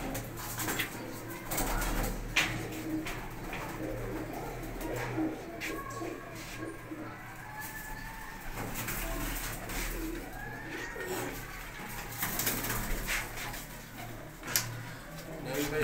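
Pigeons, paired racing birds, coo repeatedly in soft, rolling calls, several birds overlapping, with occasional wing flutters and shuffling nearby.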